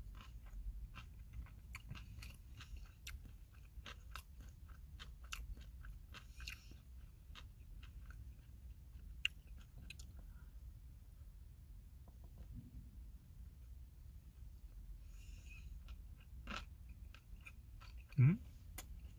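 Quiet, close chewing and biting of food made with Spam and stir-fried kimchi inside a small car during rainy, windy car camping, with soft crunchy mouth sounds over a low hum.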